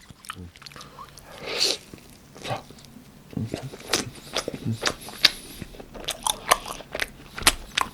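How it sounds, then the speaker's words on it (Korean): Fried cheese sticks from a BHC side menu being bitten and chewed up close, with repeated crisp crunchy bites and soft chewing in between, close-miked with no talking. "치즈틱 다 먹을게요"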